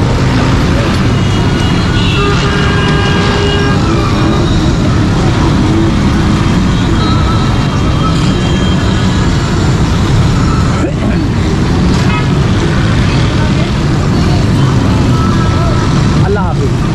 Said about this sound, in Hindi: नीचे आपको ट्रैफिक नज़र आ रही है